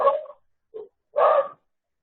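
A dog barks and yelps nearby, three short bursts spaced by silence, loud and close with no talk over them.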